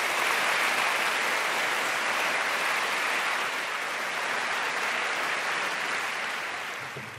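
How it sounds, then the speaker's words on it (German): A large audience at a Hamburg event honouring Helmut Schmidt's 100th birthday applauds Mayor Peter Tschentscher with sustained, dense clapping that stays steady and slowly fades toward the end. "Bitte einen herzlichen Applaus für den ersten Bürgermeister der Freien und Hansestadt Hamburg"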